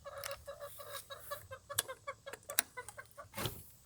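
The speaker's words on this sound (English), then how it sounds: "Let's let some of these chickens out." Chickens cluck and chatter close by as they are let out of their coop, a busy run of short, overlapping calls with a few sharper squawks, heard alone without talk.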